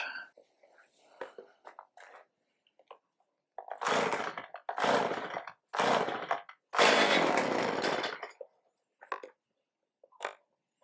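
Stihl MS310 chainsaw, full choke after storage, is pull-started outside: several sharp, separate rasping bursts of the recoil cord and sputtering engine, each lasting about a second, with quiet gaps between.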